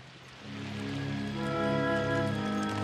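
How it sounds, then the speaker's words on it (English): Steady patter of rain in an animated cartoon scene, a soft continuous hiss that swells slightly louder partway through, with a sustained musical tone layered over it. "this rain doesn't help"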